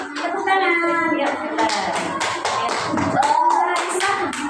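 Children in a classroom clap their hands in a short burst of sharp claps, with a voice and other speech running over them.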